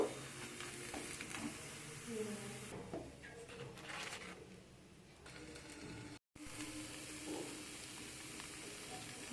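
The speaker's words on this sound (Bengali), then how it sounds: "এইভাবে করে আমি সব পটলগুলোকে ভেজে নেব" Slices of pointed gourd frying in a pan, a soft continuous sizzle with faint scraping and clinks, close but fairly quiet, dipping briefly in the middle and cutting out for a moment before resuming.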